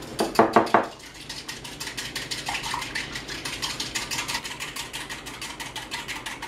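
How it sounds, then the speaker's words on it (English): Egg white being whisked with a little sugar in a bowl, a rapid, even run of light clicking strokes that carries on steadily after a brief louder clatter at the start, close by and with no talking. "You're gonna add a little sugar, not a great deal, to your egg white, and you're gonna whisk."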